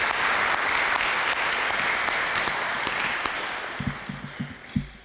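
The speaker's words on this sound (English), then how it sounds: "So let's give them a round of applause." At a middle school band concert, the audience claps in a loud, steady round of applause for school staff, the dense clapping thinning near the end as a few scattered low thumps come through.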